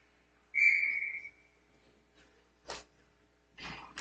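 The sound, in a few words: referee whistles at ice hockey game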